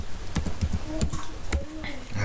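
Computer keyboard keys tapped in a short, uneven burst of close clicks as a Ctrl+S save is pressed while coding CSS, with faint talk in the background.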